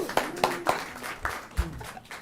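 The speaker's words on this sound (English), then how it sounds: "Let's give our Vice President a round of applause." An audience at a school board meeting clapping for the Vice President, a short, fairly thin patter of claps from a modest crowd in a meeting room.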